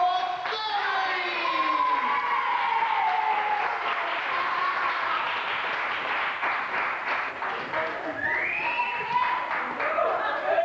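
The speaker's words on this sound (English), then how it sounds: "everybody can have a round of applause for Sammy!" Warm applause from a party crowd greets the host of a This Is Your Life style celebration, sustained clapping with cheers and whoops for about ten seconds, close and loud.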